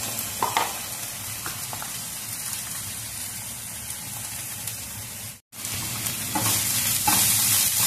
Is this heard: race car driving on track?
no